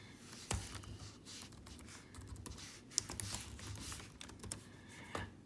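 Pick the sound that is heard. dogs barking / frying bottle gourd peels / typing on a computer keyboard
typing on a computer keyboard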